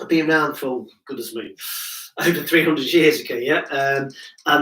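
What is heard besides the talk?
No everyday noises stand out.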